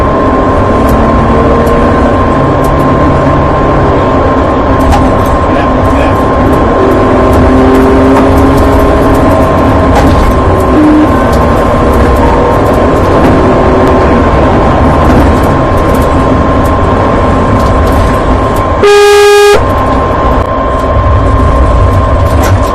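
Honda Civic engine during a police chase, a loud, continuous drone with steady low rumble and a sustained tonal hum, shifting slightly in pitch, plus a brief high electronic chirp near the end; no talk.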